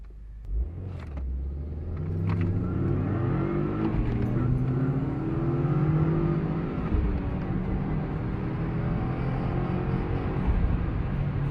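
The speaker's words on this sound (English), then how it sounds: "I could hear his engine revving higher" A Volkswagen Jetta engine roars in a racing video game, a loud continuous rumble whose pitch climbs and shifts as it revs higher, steady throughout with no talk.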